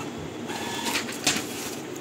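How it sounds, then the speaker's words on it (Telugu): A Brother DCP-T420W inkjet printer feeding out a page, quiet mechanical whirring with a couple of brief louder clicks and rattles near the middle, close by and alone. "వదిలేస్తే ఒక ప్రింట్అవుట్ బయటకు వచ్చింది."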